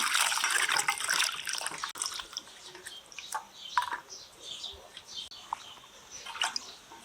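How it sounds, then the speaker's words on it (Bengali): Garlic and green chillies are rinsed by hand in water, giving uneven splashing and swishing close by in bursts, with a few light clinks between them. "কাঁচা লঙ্কার রসুন ধুয়ে নিচ্ছি"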